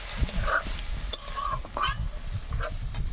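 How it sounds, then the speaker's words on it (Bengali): Spice paste with water being stirred and fried in a pan for a spicy bata fish curry, with steady scraping strokes over a constant close sizzle and no talking. "জল দিয়ে মশলাটা ভালো করে কষিয়ে নেব"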